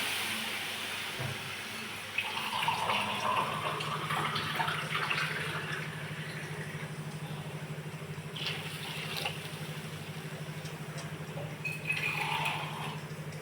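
Water poured from a glass into a cooking pot while making a Marathi-style cluster bean (gavar) dish, a steady splashing pour that runs several seconds with a low stove hum beneath it.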